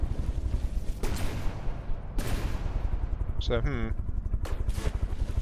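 Lateral turrets fire in From the Depths, a steady rapid cannonade of thudding shots with periodic louder bursts, plus a brief spoken word over the din.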